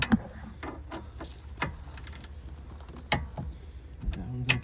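Torque wrench ratcheting on the CV axle nut of a 2018 Hyundai Elantra 2.0L, a series of close sharp metallic clicks and clacks scattered irregularly over a low garage hum.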